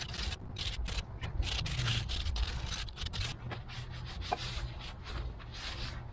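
Rust is scraped off a Mercedes Sprinter brake disc in quick, repeated rough strokes, close and fairly loud, with no talking.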